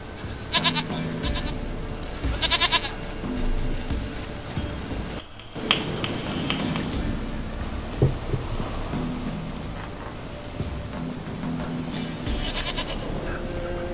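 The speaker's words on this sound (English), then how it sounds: "Goat of mine, dearest, sweetest goat." A goat bleats in The Witcher 3: Wild Hunt, several short wavering cries near the start and again later, over a steady game ambience with a brief gap in the middle.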